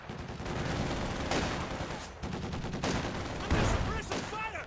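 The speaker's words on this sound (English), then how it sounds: "Big Zis barrage there, forces the retreat." ZiS-3 field gun barrage in Company of Heroes 2, a steady run of gunfire and repeated heavy impacts with a few louder booms near the end. Other battle noise sits underneath throughout.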